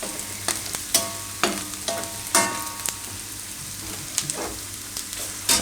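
Onions fry in a pan for a Gujarati shaak dish, giving a continuous crackling sizzle with repeated scraping strokes of a spoon as they are stirred. No one speaks.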